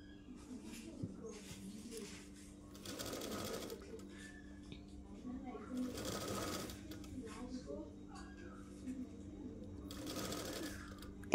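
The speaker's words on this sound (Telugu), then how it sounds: "విధంగా 1/2 ఇంచు క్లాత్ వదిలేసి స్టిచ్ వేయాలి." Sewing machine stitching pieces of an umbrella dress runs in three distinct bursts of rapid mechanical whirring, each a couple of seconds long, separated by quieter pauses with low hum and faint talk.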